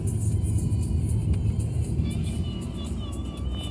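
A BMW 1 Series F40 hatchback, either a 118i or a 128 ti, takes a curve at steady speed. A continuous low engine and road rumble carries through evenly from inside the car, with a little tyre and wind noise above it.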